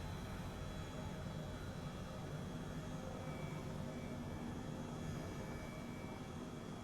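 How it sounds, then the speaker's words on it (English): Harrier jet passing overhead, a broad, steady engine roar with dense low rumble and a hissing upper wash holding constant throughout, sounding fairly distant rather than close. "Nothing like having a Harrier provide top cover."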